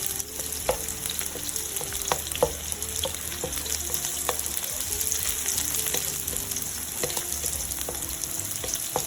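White onions sauté in a hot pan over low to medium heat, a steady close sizzle with occasional sharp crackles and stirring scrapes, no voices.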